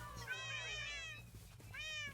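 Cats meow in a video game, two high, tonal calls a second or so apart, fairly close and clear over a quiet low background hum.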